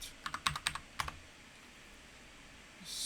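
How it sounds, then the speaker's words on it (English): Keys on a computer keyboard tapped in a quick burst of about eight close clicks, then a pause and one more short cluster before quiet room noise. "So the code will be pasting here on the keyboard."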